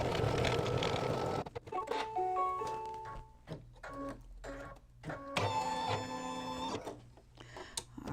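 An embroidery machine stitches down a tack-down on an in-the-hoop bag, making a close, busy mechanical whir with needle pulses, brief stops and electronic beeps between runs.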